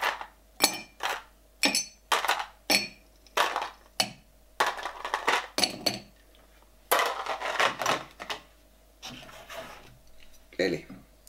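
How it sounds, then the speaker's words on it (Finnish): Ice cubes clink and clatter into a cocktail glass for an Alba Rosa, a built drink, in a series of sharp, close knocks and rattles at an uneven rhythm with brief pauses between pours. "Täytetään lasi jäädä"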